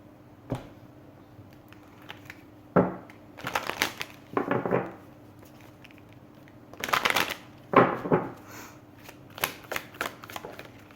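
Tarot cards are shuffled in several separate bursts of quick riffling and flapping, close and crisp, with short quiet gaps between the bursts and no speech.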